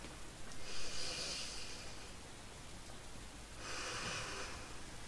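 Two long, steady breaths blown out during a swimming breathing drill, soft hissing exhales, close, over a constant noisy background with no talk.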